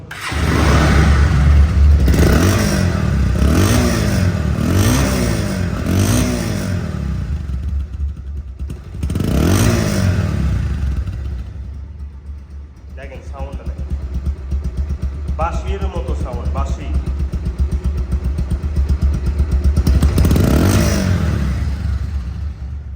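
A second-hand Bajaj Pulsar ABS motorcycle in showroom condition idles close by, its engine revved in several sharp bursts early on and again near the end. A voice speaks briefly over the idle in the middle.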